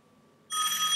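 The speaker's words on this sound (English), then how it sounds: "let me make one more manual dial to the same number and press dial" A telephone begins ringing abruptly after a brief quiet stretch following a manually dialed call, a bright electronic ring that is steady and close for about half a second.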